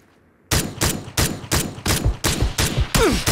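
SKS rifle fire in PUBG: a rapid string of about eight loud, close semi-automatic shots, one after another at an even pace, after a brief quiet moment, with no talk.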